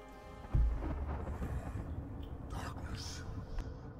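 Thunder rumbles in a snowy storm in The Banner Saga 2, a sharp crack followed by a low, steady rolling boom that lingers, with softer later swells.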